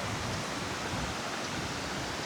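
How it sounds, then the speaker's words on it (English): A stream runs down the side of a house on a Scottish walking loop near Dalry, giving a steady, broadband rushing of water with no talk. "Oh, it's got the stream running down the side of it."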